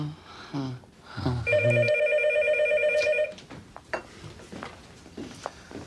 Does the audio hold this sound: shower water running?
no